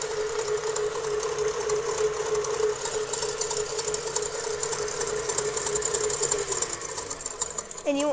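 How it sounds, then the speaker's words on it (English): An electric mixer whirs steadily at an even pitch, close and loud, beating chocolate chip mint cookie batter, with a brief shift near the end. "you're going to wait till these are nice and whisked together"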